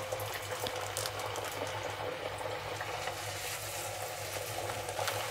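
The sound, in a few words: masala lentil crisp dough frying in oil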